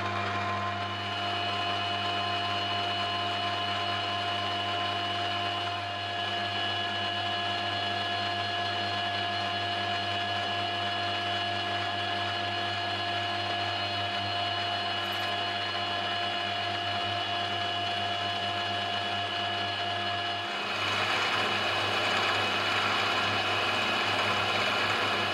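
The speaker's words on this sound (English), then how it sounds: "I'm using a 4mm slot drill for this operation, and I'm cutting the slot before I mill away the rest of the body section" A milling machine cuts a slot in a metal vise stop body with a 4mm slot drill, a steady whirring spindle drone with constant tonal hum that grows rougher and louder near the end.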